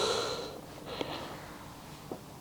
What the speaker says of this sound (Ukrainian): Тепер Зроби глибокий-глибокий вдих.